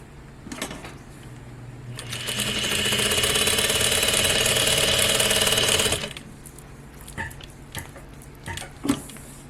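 A Juki DDL-8700 industrial sewing machine stitches in one steady, loud burst of about four seconds. Before and after it, quiet clicks and taps are heard as the machine is adjusted.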